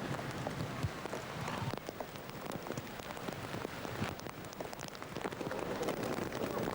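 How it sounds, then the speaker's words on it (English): Heavy rain pours steadily at an outdoor show-jumping arena in San Patrignano, Italy, a dense continuous patter with scattered sharper drops, loud and close throughout. "The rain getting harder."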